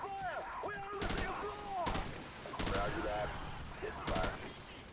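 Bursts of gunfire in a military shooter video game, with several loud volleys of shots spaced across the moment over a steady bed of game sound effects and background music.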